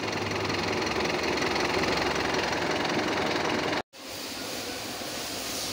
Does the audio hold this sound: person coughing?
no